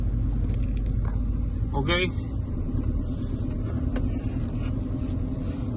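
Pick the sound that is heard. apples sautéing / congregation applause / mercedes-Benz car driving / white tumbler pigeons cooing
mercedes-Benz car driving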